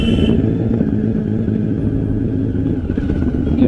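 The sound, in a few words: motorcycle engine riding on rough village road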